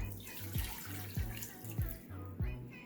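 Water runs and splashes steadily into a pot holding sugar and cardamom seeds, with a few soft clinks recurring at a regular pace.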